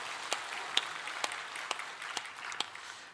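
A church congregation applauds during a Sunday service, a soft sustained patter of clapping with a few sharper claps standing out, somewhat distant.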